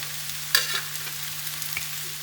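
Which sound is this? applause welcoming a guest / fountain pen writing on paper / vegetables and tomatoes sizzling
vegetables and tomatoes sizzling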